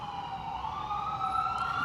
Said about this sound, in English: we got an ambulance coming by, as you can tell